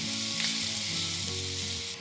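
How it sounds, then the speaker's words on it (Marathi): Crushed garlic and green chili thecha fries in hot tempering oil, giving a steady, close, dense sizzle with faint stirring and no voices. "हा ठेचा जो आपण तयार करून घेतला होता, लसूण मिरचीचा ठेचा, हा घालून 1 मिनिटभर परतवून घ्यायचा"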